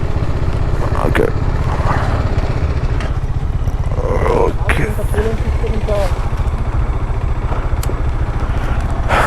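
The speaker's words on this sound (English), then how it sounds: "I'll tell him to park his bike here." Motorcycle engine running at a steady idle-like rumble while the bike parks near a toll on a road trip to Mysore, loud and continuous with people talking over it.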